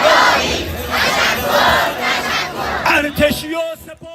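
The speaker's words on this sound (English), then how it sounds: "hundreds of people cheering in support of the armed forces" Hundreds of people roar and cheer together at a nationwide rally celebrating the armed forces, a dense, loud wall of massed voices that swells and surges, ending in a few louder shouts above the crowd.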